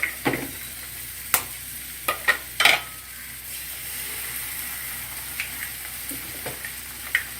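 Two eggs fry in a pan for a samosa filling, with a soft continuous sizzle under several crisp taps and scrapes of a spatula that come early and then thin out.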